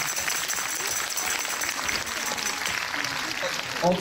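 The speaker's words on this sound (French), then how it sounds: "On peut l'applaudir aussi." An audience at an evening event celebrating the Plus belle la vie finale claps steadily for a guest, a dense, even wash of applause that holds for several seconds with faint voices beneath.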